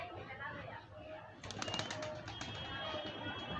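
A pigeon coos softly in a loft as someone talks nearby, followed by a brief flutter of wings and faint calls from other birds in the background.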